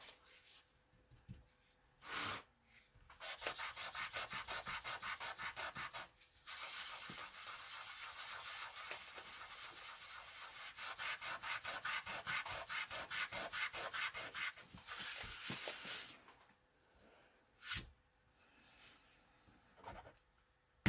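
An eraser is rubbed hard over dirty old paper in an antique cookbook, making close, dry scrubbing strokes in rapid back-and-forth bursts with short pauses between them.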